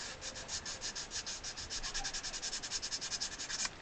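Celluloid from the treble keyboard section of a Frontalini accordion being sanded on its back by hand, a steady run of quick, even rasping strokes, close and fairly loud, with no talking.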